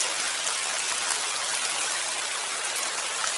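Steady rain falls outside a hospital in a Korean drama, a dense, even hiss of drops with no breaks, fairly loud and alone without voices.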